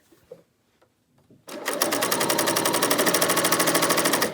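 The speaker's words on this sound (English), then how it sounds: "I'm just going to start sewing." A BERNINA L 890 overlocker sews knit fabric for a dress. A few soft handling clicks come first, then the machine starts up with a loud, close, rapid rhythmic whir that runs steadily to the end.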